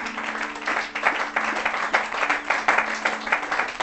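A church congregation applauding: sustained, dense clapping from many hands, steady with slight swells, loud and fairly close, with a faint voice underneath.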